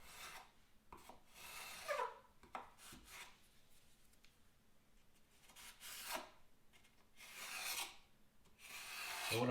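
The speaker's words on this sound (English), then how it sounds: "I'm sticking it on there, and then I'm just wiping it right off, trying to push it up into those gaps" Caulk being wiped and pushed into gaps along wooden window casing trim, heard as close, quiet, intermittent rubbing and scraping strokes with brief pauses between them and no talking.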